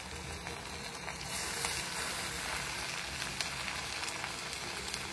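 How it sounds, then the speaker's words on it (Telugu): Small spoonfuls of punugulu batter, made with cooked rice, deep-frying in a pan of hot oil, giving a steady, close bubbling sizzle that runs the whole way through. "ఈ విధంగా కలుపుకున్న పిండిని కొంచెం కొంచెం తీసుకొని ఇలా డీప్ ఫ్రైకి సరిపడా ఆయిల్ వేసుకొని చిన్న చిన్న పునుగులుగా వేసుకోండి."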